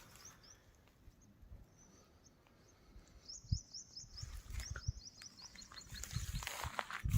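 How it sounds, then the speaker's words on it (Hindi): Faint, high bird chirps repeat in short clusters over quiet outdoor ambience, with a few soft thumps and rustles nearby. "चिड़ियों की आवाज़ आपको सुनाई दे रही होगी।"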